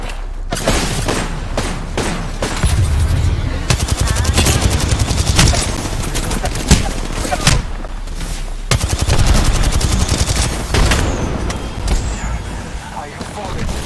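Rapid gunfire from an Apex Legends match crackles in dense, loud bursts of automatic shots that keep going with short gaps, mixed with booms and game noise, while a voice talks over the action.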